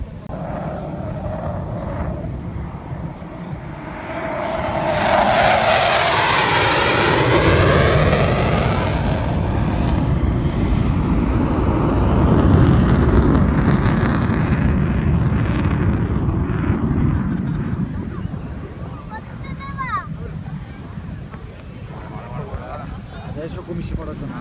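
A Tornado jet roaring past at the Jesolo air show in 2017, a loud rising and falling engine thunder that swells over several seconds then fades, with people talking nearby.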